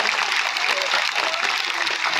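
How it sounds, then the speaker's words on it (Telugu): A crowd at a public gathering in Kodumuru applauds loudly for an MP, a dense, steady wash of clapping that fills the whole stretch without a break. "మీ అందరికీ ఎంపీ గారి గట్టిగా చప్పట్లు కొట్టాలి అందరు ఇంకా గట్టిగా ఇంకా గట్టిగా"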